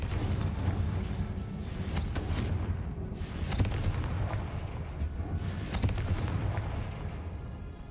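Spell explosions burst during combat in the video game Hogwarts Legacy, a series of booming blasts and sharp cracks over a dense rumbling game soundtrack, with a few louder impacts standing out; no talking.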